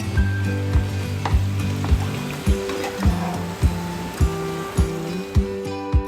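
Boiled mutton fries with browned onions in a pan, giving a continuous sizzle broken by regular scraping thumps of a spoon mixing, close and fairly loud with no voices.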